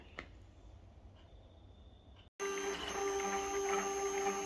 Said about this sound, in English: So this is just showing the actual 3D printing process.